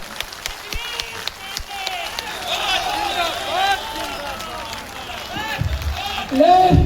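A large crowd in a Gorakhpur auditorium at a railway union's triennial convention keeps up sustained applause and crowd noise, with voices calling out over it and a loud burst near the end.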